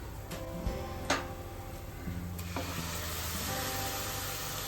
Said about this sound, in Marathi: मसाले छान तेल सुटेपर्यंत परतून झालेत आता आपण त्यामध्ये टोमॅटोची पेस्ट घालूया